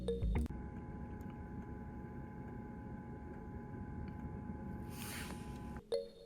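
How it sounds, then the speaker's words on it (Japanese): An FF parking heater blows warm air inside a car, producing a faint, steady airy hum and drone that runs unbroken for several seconds, with a brief rushing swell near the end. "ヒーターの風の音は聞こえますが、ポンプのコツコツ音はほとんど聞こえませんでした。"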